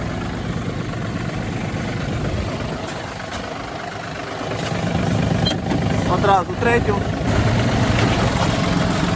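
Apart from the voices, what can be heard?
Yanmar RS-30 mini tractor engine running with PTO engaged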